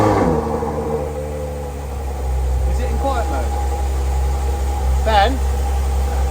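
A Ferrari 812 Superfast's V12 hums low at idle and then rises into a rev, its deep rumble close and continuous, while a voice speaks briefly over it.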